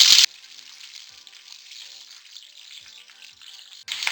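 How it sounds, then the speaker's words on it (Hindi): Onions frying in oil spiced with cumin and bay leaf for matar aloo pulao, a steady soft sizzle running throughout at moderate level, with a louder burst at the start and end as the onions go in and are stirred. "फ्राई करेंगे।"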